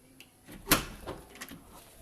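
A door bangs once as it opens, a sharp loud knock-like hit near the middle followed by faint rattles and shuffling, close by indoors.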